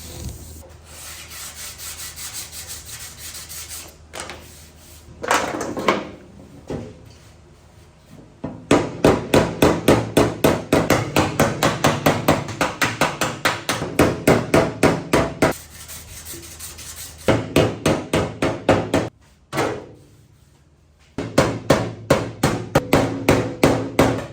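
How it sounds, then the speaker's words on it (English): Rapid, steady metallic hammer strikes with a hammer and dolly, straightening sheet-metal body panels on a Chevrolet C10 pickup, coming in long bursts with short pauses between them. Close and loud, no talking. "I'll hammer and dolly, get them straightened out as much as I can"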